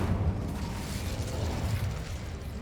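Incendio fire spell cast in Hogwarts Legacy on PS5, a loud continuous roaring whoosh of flame with crackling bursts, rumbling low and dense throughout without pause.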